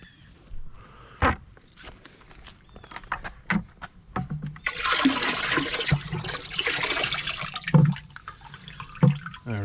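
Water is poured into a large brew kettle during partial-mash home brewing of a Baltic porter, a rushing gush in the middle third with splashes and clunks before and after, fairly close and alone.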